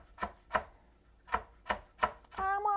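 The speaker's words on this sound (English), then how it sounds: "chopping my carrots." Carrots for soup are chopped on a board in crisp, evenly spaced knife strikes, close and clear, ending with a brief tonal sound.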